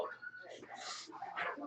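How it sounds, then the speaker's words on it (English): A dog whimpers and whines from a TV show, thin and high, mixed under steady talk in the room. "Are you talking to the dog on the TV?"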